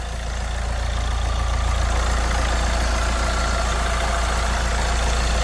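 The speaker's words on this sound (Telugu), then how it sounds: "బండి ఇంజన్ సౌండ్ చూడండి ఫ్రెండ్స్." A 2009 Hyundai i20 hatchback with about 118,000 km idling, a steady close engine hum with a strong low drone that holds evenly throughout, no talk over it.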